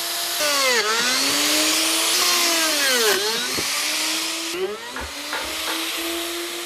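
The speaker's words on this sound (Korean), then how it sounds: "멀쩡한 나무에 구멍을 내기 시작한다." Power tool whining as it drills a series of holes into hinoki cypress wood planks for a square bathtub, the motor pitch dipping and recovering with each bore, loud and close throughout.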